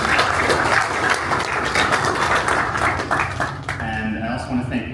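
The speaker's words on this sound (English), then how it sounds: "We can give them a preemptive round of applause" An audience at a quantum physics event gives a round of applause, dense clapping that fades out midway, after which a voice begins speaking alone.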